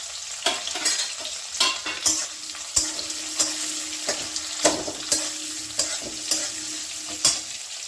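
Onions sizzle with black mustard seeds in a hot pan for a cauliflower dish, a steady close hiss broken by regular scraping stirs roughly every half second.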